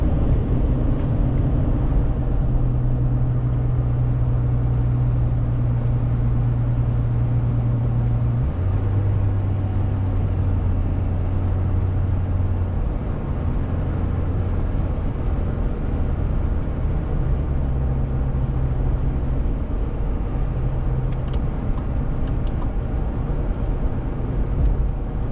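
Chevrolet Colorado Z71 crew-cab pickup heard from inside while driving, a steady engine and road drone with audible pitch steps as the transmission shifts up through gears.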